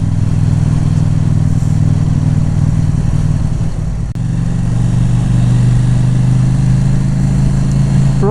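KTM 790 Duke motorcycle riding with freshly replaced sprockets, a loud continuous engine drone and wind rush with a brief dip midway as the engine note shifts, steady and close.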